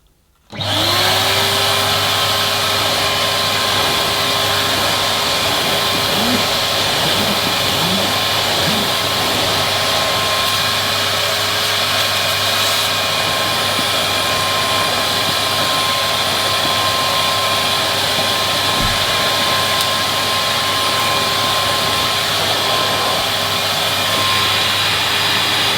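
A Numatic Charles wet and dry vacuum cleaner starts up and runs steadily, giving a loud, constant motor whine and airflow roar with no talking throughout.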